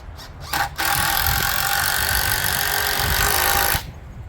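A DeWalt cordless drill drives screws into an 8x8 wall frame for a tiny house or shed, a loud steady motor whir running about three seconds after a few short bursts, then cutting off.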